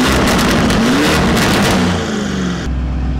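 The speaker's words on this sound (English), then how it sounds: "Loud ass car." A widebody Lamborghini Urus engine revs hard, very loud and close, with a rising roar that holds and then drops to a lower idle rumble near the end.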